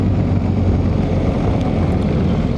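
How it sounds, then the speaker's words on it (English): BMW R 1300 GS Adventure motorcycle engine braking, a steady loud low engine drone with heavy wind rush, continuous and close throughout with no talk. "Very good engine braking."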